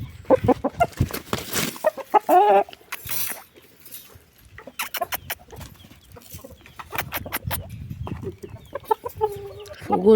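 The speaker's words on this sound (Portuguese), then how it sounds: "Olha, peguei o galo." A rooster held in someone's arms clucks in short, loud bursts close by, with scuffling and handling noises between calls.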